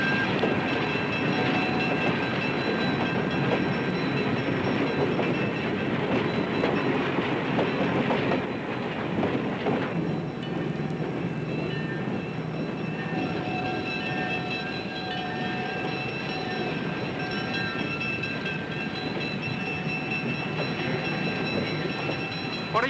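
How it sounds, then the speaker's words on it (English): A passenger train pulls into a coastline railway station with a steady, loud rumble and continuous wheel noise. High squealing tones from the rails or brakes run throughout and keep going without a break. "Southbound train number 75, now coming in."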